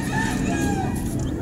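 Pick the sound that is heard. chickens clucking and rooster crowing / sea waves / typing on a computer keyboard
chickens clucking and rooster crowing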